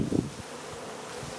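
Honey bees drone and buzz steadily during a hive removal in Brownsville, Texas, a close, continuous insect hum with a brief louder swell near the start.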